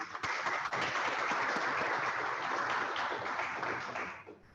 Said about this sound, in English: Please welcome Professor Anand with a huge round of applause